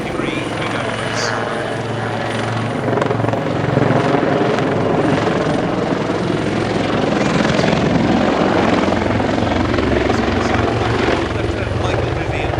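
Royal Navy Wildcat HMA.2 helicopters of the Black Cats display team flying a display at RIAT 2024, a loud continuous rotor and engine roar with a commentator talking over it throughout.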